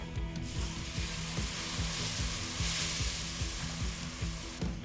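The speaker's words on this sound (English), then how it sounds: "now we're gonna slowly whisk in the milk" Milk being whisked into hot butter and flour for a stovetop macaroni and cheese sauce, a steady bright sizzle with a rapid rhythmic scraping of the whisk against the pan, close and continuous without speech.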